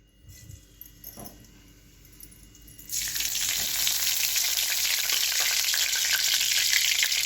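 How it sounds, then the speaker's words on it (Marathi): Cumin and mustard seeds hit hot oil in a kadhai at about three seconds and a loud, steady crackling sizzle follows, close and continuous, with faint clinks beforehand. "तेल गरम झाले की टाकणार आहे जिरी मोहरी"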